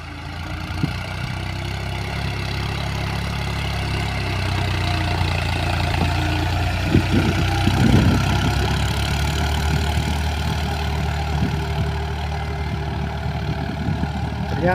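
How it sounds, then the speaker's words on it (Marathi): A tractor tilling a field being prepared for a millet crop: a steady, close engine drone runs throughout, with a few brief knocks and rattles partway through and no talk. "तुम्ही बघू शकता ट्रॅक्टरने मशागत चालू आहे."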